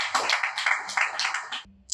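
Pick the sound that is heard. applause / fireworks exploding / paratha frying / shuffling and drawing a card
applause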